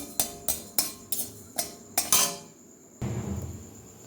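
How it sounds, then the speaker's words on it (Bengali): Cumin seeds are dry-roasted in a pan, with a series of sharp, evenly spaced metallic taps of a utensil on the pan followed by a soft, continuous rattling stir. "একটু শুকনো খোলায় জিরে ভাজা করছি"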